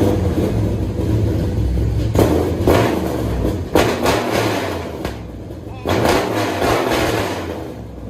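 A cammed 2016 Ram 1500 with a 5.7L Hemi, long tube headers and Flowmaster Super 44 true dual exhaust revving, deep loud rumbling bursts rising and falling several times, with voices partly over it.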